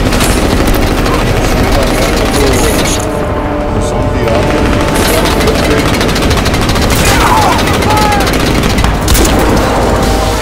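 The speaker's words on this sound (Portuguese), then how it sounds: "Caraca, é um helicóptero mesmo." A helicopter in the video game Crysis 2 drones on steadily beneath dense, loud bursts of machine-gun fire and booming explosions that run throughout the combat scene.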